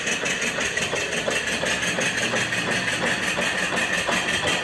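An antique live steam mill engine with a Swift oiler and governor runs steadily close by, giving a continuous mechanical hum and rhythmic chuffing throughout, with no talk.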